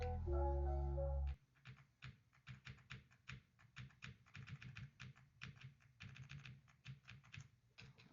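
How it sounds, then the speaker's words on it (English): Keystrokes clatter on an Aula S75 Pro mechanical keyboard in quick, uneven bursts of close, crisp clicks, following a brief louder non-typing sound at the start. "this keyboard is pretty good. Like, it sounds super nice."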